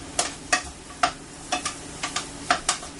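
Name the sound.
shallots and apples simmering in a pan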